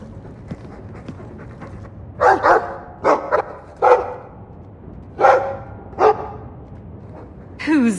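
Dog barking in the Dragon Age 2 video game, several loud, close single barks spaced out irregularly over a quiet backdrop, with soft panting-like sounds between.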